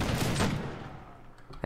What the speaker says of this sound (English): Alright, take aim. Ready. And fire.